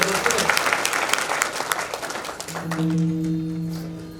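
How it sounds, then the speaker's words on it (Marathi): Audience applause at a Shiv Naam Saptah religious gathering in Maharashtra, a burst of rapid clapping that fades out after about two seconds as a steady tone carries on. "त्यांच्याकरता एकदा टाळ्या वाजवा"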